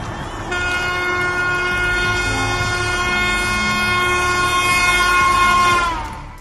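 A train rushes along the railway track, sounding a long loud sustained horn over the rumble of wagons, which swells in and then fades as it passes.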